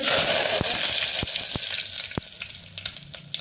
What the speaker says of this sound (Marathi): मोहरीला छान अशी तडतडायची आहे आपल्याला